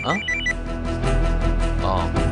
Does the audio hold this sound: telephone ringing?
yes